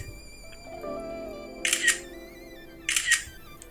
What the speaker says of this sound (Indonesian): Ini gue coba jepret untuk dus dari iPhone XS